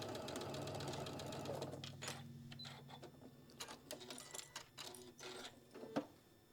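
Sewing machine stitching a pouch and finishing with a back tack: a steady buzzing run of stitches for about two seconds, then a series of short, irregular mechanical clicks and bursts, close and fairly quiet.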